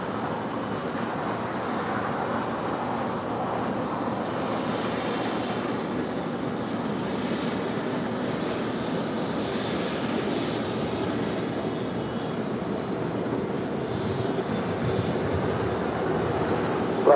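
An airliner takes off from runway 25 right at Los Angeles International Airport, its engines a steady, broad roar that holds evenly throughout without any voices.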